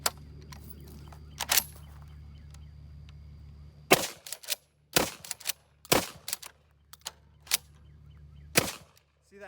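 Civet 12 shotgun firing 2 3/4 inch shells from a 10-round magazine: several sharp, loud blasts spaced irregularly over a low steady hum, with small clicks and handling noises between shots.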